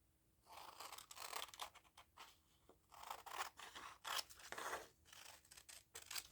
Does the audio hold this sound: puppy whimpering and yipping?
no